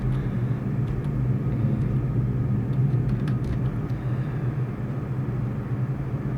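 Steady, loud aircraft engine drone with a low rumbling hum, holding fairly constant throughout with no voices, as power is added during a climb after a failed landing approach.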